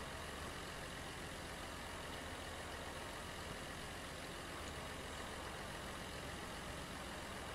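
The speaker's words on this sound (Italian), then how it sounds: "certo che anche a sto trattore Gildo è lento" A steady, low engine drone from a tractor in Farming Simulator 15 runs unbroken and even at moderate level, with no speech over it.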